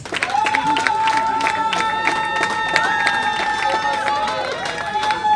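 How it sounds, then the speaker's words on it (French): Loud audience applause at an awards ceremony honoring women, dense clapping mixed with crowd cheering and chatter, and a sustained tonal sound running beneath throughout. "je voudrais que vous applaudissiez très fort pour Madame Dorcas."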